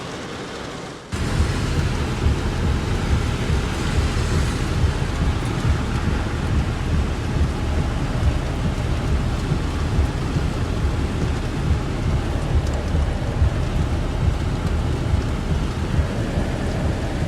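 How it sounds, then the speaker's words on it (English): Heavy rain comes down in a sudden, dense, continuous roar of drops hitting surfaces, loud and close, with low rumbles of thunder mixed in. It starts abruptly after a second of quiet and then keeps going unchanged. "this is what happens when you get caught up with the rain and you're not prepared"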